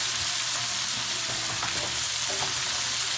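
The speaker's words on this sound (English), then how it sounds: "See, I got the onions there, sauteing." Onions and carrots sauté in a pot with a constant close hiss and crackle of frying that holds steady throughout, with faint stirring ticks underneath and no talk.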